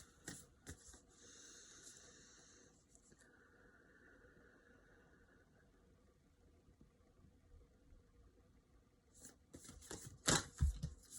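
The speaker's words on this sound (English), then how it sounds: "these cards are still a little hard to shuffle because they're still a little new" A fairly new, stiff tarot deck is shuffled by hand, giving soft papery rustles and flicks that stay quiet for most of the time, then a brief, louder riffle of cards near the end.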